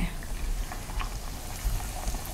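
Paratha deep frying in hot oil, a steady, continuous sizzle and bubbling close by, even in level throughout with no talking.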